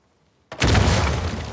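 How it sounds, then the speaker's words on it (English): A sudden loud dynamite explosion in the video game Uncharted 4 erupts after brief silence, a heavy booming blast with a broad rumble that sustains and slowly decays. "Hopefully we just blend in with the other explosions."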